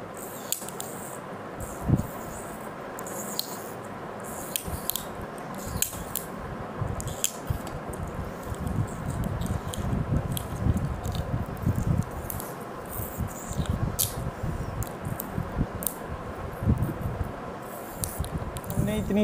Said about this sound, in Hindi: इसको पीछे थोड़ी टेप लगाते हैं